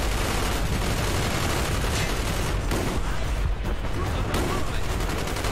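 Gunshots and sustained firefight noise in Call of Duty: Black Ops, with dense overlapping bursts and distant booms forming a continuous loud wall of combat, with speech-like noise mixed in.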